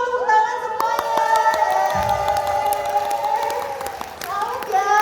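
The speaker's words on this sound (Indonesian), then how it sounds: "Ayo dong berdiri dong, tepuk tangan semuanya." An audience at a corporate awards event claps and cheers over loud background music, a dense continuous applause with scattered shouts and people talking, near and fairly loud.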